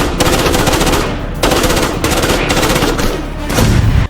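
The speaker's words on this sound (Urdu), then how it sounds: "پورا علاقہ خودکار بندوقوں کی تھڑتھڑاہٹ سے گونج اٹھتا ہے" Automatic weapons fire in loud, sustained bursts with short gaps between them, a dense rattling of gunfire echoing through the area during an ambush.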